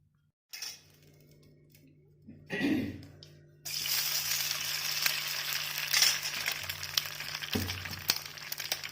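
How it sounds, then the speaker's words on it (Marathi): Eggs dropped into hot oil in a pan begin sizzling, with a faint clink and soft thuds before a bright, steady frying hiss swells and carries on to the end. "तर आपण पॅनमध्ये अंडी टाकूया"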